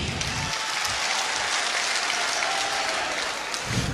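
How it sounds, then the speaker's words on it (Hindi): Applause for a performer at a Hindi poetry gathering, a dense, steady clatter of many hands clapping that carries on throughout the clip without a break. "एक बार आप जोरदार तालियां भाई रूपेश जी के लिए बजा लीजिए।"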